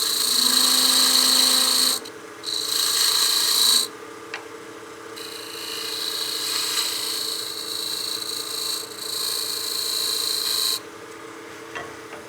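A witch block head spins on a wood lathe as a skew cuts a step, giving a steady high whine and scraping with a loud stretch at the start, then softer continuous cutting, without speech.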